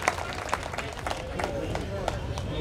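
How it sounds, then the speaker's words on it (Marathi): An audience at a community bride-and-groom introduction gathering claps for dignitaries on stage, a dense patter of applause mixed with crowd murmur and voices. "जोरदार टाळ्या होऊन जाऊ द्या सर्व मान्यवरांसाठी."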